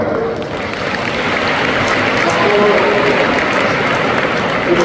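Audience at a school annual function applauding, a dense sustained wash of clapping from many hands throughout, loud and close, with a voice faintly underneath.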